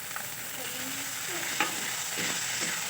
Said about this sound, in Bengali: এটাও আমি খুব ভালোভাবে কষে নেব, যাতে টমেটো কাঁচা গন্ধটা চলে যায়।